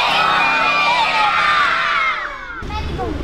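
A crowd of children in an audience at a live animal show yells together in one loud, sustained shout that breaks off, followed by a softer burst of voices.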